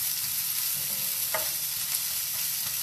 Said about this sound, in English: You just want to brown the onion a little bit